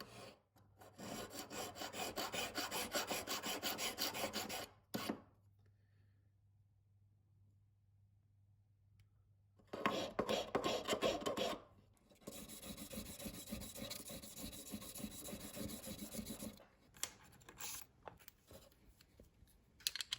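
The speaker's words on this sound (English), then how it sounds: "I am thinning out the bottom of the ring to reduce its weight and give it a nice shape." A white gold ring is filed by hand to thin its bottom, giving steady rasping strokes in two long bursts split by a quiet gap, close and fairly loud, with no talk.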